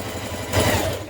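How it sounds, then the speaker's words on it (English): A sewing machine running a long straight stitch around the top curve of a tunic, a steady close mechanical whir that swells louder halfway through the brief burst. "use a long straight stitch and just sew around this top curve area"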